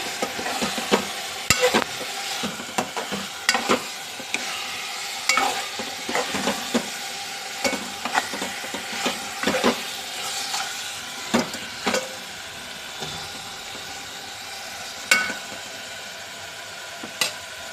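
Boiled eggs being stir-fried in masala in a pan for egg biryani: steady sizzling with repeated sharp clinks and scrapes of a spoon, close and fairly loud, no voices.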